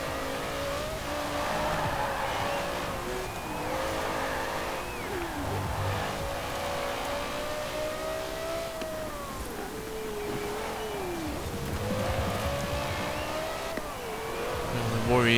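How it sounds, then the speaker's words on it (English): An older, lighter Porsche 911 races in Forza Horizon 4, its engine roaring steadily and rising and falling in pitch through gear changes and revs across the whole stretch, loud and close, with a voice talking over it. "The lighter, older Porsche 911 is roaring off."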